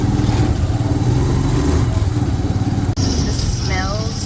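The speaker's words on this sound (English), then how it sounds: "Okay, we're riding on the tricycle." Motorized tricycle ride through a Manila street, its small engine putting steadily and loudly throughout, with a brief dip near the three-second mark and chirping whistles or birds above the engine noise near the end.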